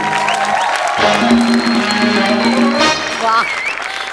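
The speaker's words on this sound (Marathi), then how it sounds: "जोरदार टाळ्या" A crowd claps loudly for a few seconds at a comedy show award announcement, with voices and music mixed in.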